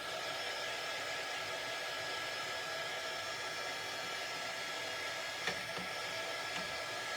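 A hair dryer blows on a freshly painted Santa shelf-sitter craft, giving a steady, loud, airy whoosh throughout with one brief knock partway through and no talking.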